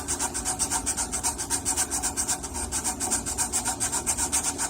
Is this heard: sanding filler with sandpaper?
yes